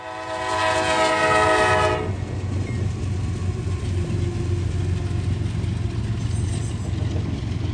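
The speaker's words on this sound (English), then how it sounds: "The treat for me on this train was number 9051, a C40-9W in the lead." A loud horn blast from a freight train led by C40-9W locomotive number 9051 ends after about two seconds. A steady, heavy rumble of rolling cars follows as the train passes close by.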